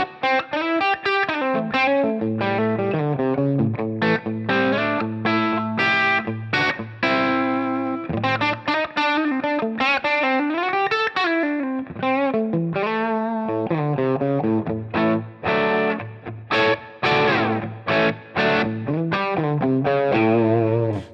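An electric guitar plays a Marshall-style crunch tone through Line 6 Helix effects, with driven, distorted chords and riffs ringing steadily and loudly. Short chord stabs and sustained notes fill the passage with a chorus-like shimmer, and no voice is heard.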